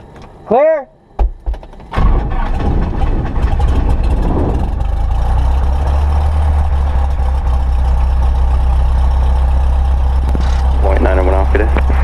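A light aircraft engine at Austin cranks and catches after a couple of brief bursts, then settles into a loud, steady, low idle rumble close by. Voices speak over it near the start and again near the end.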